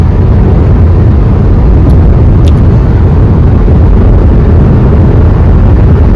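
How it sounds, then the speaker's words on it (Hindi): A Windsor EV electric car cruises a Rajasthan highway at about 100 to 115 km/h, heard as a loud, constant low rumble of road and wind noise with no voices. "गाड़ी 100, 110, 115 आराम से चल रही है।"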